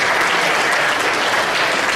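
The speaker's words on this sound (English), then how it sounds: "One more round of applause for Leslie" Dense, steady applause from a dinner audience at an anniversary celebration, many hands clapping together in a continuous loud wash with no pauses.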